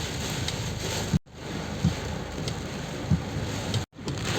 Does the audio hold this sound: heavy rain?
yes